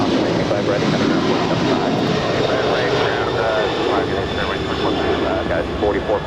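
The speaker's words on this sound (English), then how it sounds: "And that's Western Global Airlines 5870 heading to Tokyo Narita." Western Global Airlines jet departing LAX, a loud, continuous broadband engine roar that holds steady throughout, with faint radio-style voices under it.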